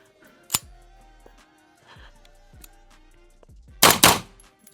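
Shots from an expensive rifle fitted with an EOTech sight crack out at a shooting range, two or three sharp reports spread across a few seconds, the last loudest and closest, with faint metallic clinks between.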